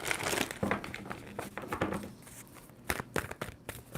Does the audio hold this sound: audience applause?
no